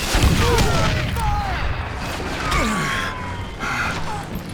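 Gunshots ring out in a chaotic outdoor shootout, heard as sharp booming cracks over a dense, noisy roar with a wailing siren-like tone weaving through.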